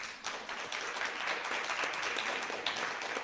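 Applause at a community Christmas telethon follows a generous donation: a moderately loud, even patter of many hands clapping that holds steady for a few seconds with no speech over it.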